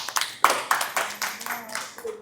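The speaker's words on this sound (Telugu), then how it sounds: "ఒకసారి రాధగారు కూడా చప్పట్లు కొట్టండి" An audience in a Telugu painting event hall breaks into a short burst of clapping, scattered claps rising and fading over a couple of seconds, with some voices murmuring underneath.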